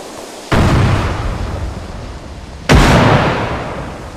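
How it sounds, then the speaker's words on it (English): Two loud frag grenade blasts in a tactical shooter game, the first erupting about half a second in and a second, sharper one near the end, each with a long rumbling decay and no talk over them. "Frag out on the right building, the northwest building."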